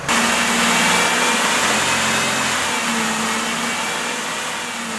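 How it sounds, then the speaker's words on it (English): A car engine held at a steady raised idle of about 1500 RPM, a continuous broadband drone with a low hum, loud and close throughout, slowly easing slightly in level. "Sometimes it is best to increase the engine RPMs to about 1500."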